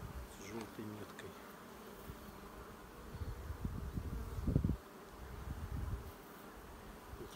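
Honey bees buzz steadily at close range at an apiary hive, a dense droning hum that swells and dips, with no talking.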